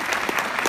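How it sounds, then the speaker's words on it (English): Audience applause at a Tribeca 2015 film festival conversation, a brief, steady patter of clapping under an otherwise quiet room. "Oh, right, someone's applauding."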